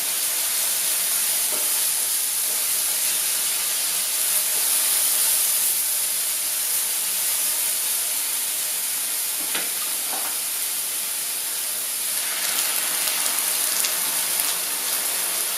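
Beetroot noodles cook in an open pan with a steady, loud sizzling hiss that runs unbroken throughout, with a few faint stirring clicks near the end and no talking.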